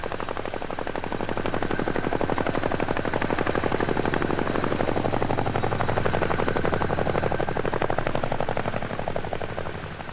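Military helicopter airlifting a Chaparral M54 missile launching station slung beneath it, a loud, steady rotor chop with rapid regular blade pulses that continues without a break.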